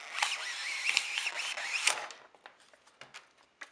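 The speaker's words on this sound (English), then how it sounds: "pull the black card" The black card is pulled from a Polaroid 230 Automatic Land Camera: a brief scraping, zipper-like slide, then a run of faint small clicks and rustles as the card is handled.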